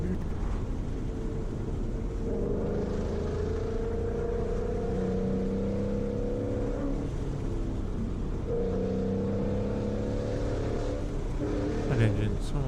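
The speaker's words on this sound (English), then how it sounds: "That engine's so amazing." Car engine running steadily in fourth gear at 100 km/h, a continuous droning hum with harmonic tones that rise slightly and reset around eight seconds, with wind rush throughout and no talk.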